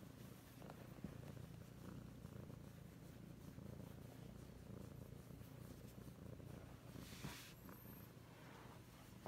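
A domestic cat purrs in a steady, soft, low rumble, close by and alone, continuing unbroken throughout.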